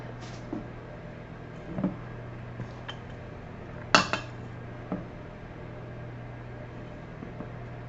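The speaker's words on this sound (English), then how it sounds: "Scoop of my filling and into my tart shell." A spoon scooping raisin butter tart filling into tart shells makes a handful of light metallic clinks against the dish, sparse and close, with one sharper knock midway and no talking.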